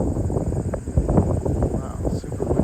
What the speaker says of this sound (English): Wow, super windy.